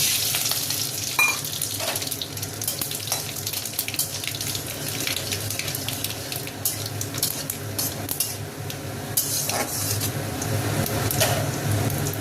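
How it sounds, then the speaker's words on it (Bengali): Hot oil in a kadai sizzles steadily and loudly as bay leaf, dried red chilli and five-spice are tempered for pumpkin-leaf dal, a continuous close crackle with no talk over it. "তেল গরম হয়ে গেছে, এবার ফোড়ন দিয়ে দেবো তেজপাতা, শুকনো লঙ্কা আর পাঁচফোড়ন"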